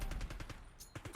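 Rapid gunfire in Call of Duty: Black Ops 6, a quick burst of several sharp shots in a steady rhythm, loud and close, with a brief pause before a final pair of reports.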